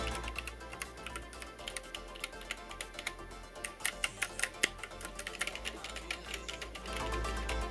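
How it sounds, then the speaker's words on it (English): Rapid clicky keystrokes on a budget Redragon K585 DITI mini mechanical keyboard, close and fairly quiet, in uneven bursts with a few louder clacks, and a voice talking faintly underneath. "So if you mash keys a lot, this will be quite a bit louder than your standard membrane keyboard."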